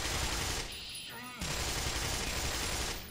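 Dense gunfire from the video game Black Mesa, a loud, sustained roar of rapid shots that briefly thins out near the middle before surging back at full strength.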